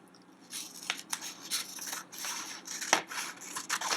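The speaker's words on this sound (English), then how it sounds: "These scissors here are coming from two directions." Scissors shear through material in a series of crisp snips that repeat unevenly, close by and fairly loud in a quiet room, with no talking.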